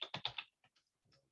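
A quick burst of four or five computer keyboard keystrokes, close and quiet, followed by a few sparser, fainter key taps, with no voices.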